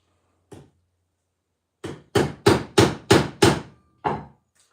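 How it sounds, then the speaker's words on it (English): A hammer strikes transmission parts during a transmission service: one lone blow, then a quick run of six sharp, loud, evenly spaced hits and a final strike, with silence between. "I'm having to use hammers a lot today"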